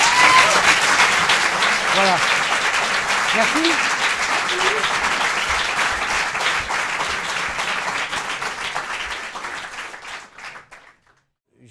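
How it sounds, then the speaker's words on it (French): An audience at a televised Kandidator evening applauds loudly and steadily, with a few voices heard over the clapping, before the applause fades away to silence at the end. "j'aimerais qu'on vous applaudisse pour ça"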